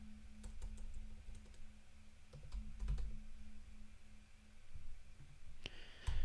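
Fingers type on a computer keyboard at a desk during a coding session, a close run of irregular clicking keystrokes in bursts and pauses, with no speech.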